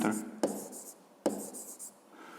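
Pen or pencil writing by hand during a fifth-grade maths exercise, giving soft close scratching strokes with two sharp taps, quiet and alone.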